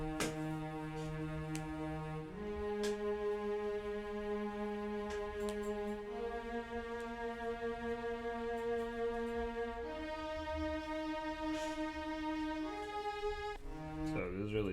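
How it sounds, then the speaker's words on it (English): A violin-like string melody in a trap beat plays as a slow sustained line of long held notes that shift pitch every few seconds, steady and moderately quiet, with no voice. "It's like a violin in the motif."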